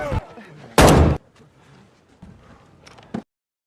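A sharp, loud burst like a gunshot cracks out, followed by quieter rustling and a second shorter bang near the end.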